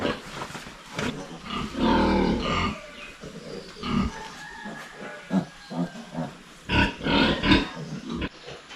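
A sow that has just given birth to twelve piglets lets out a series of close, irregular deep grunts and rough snorts, some louder bursts in between.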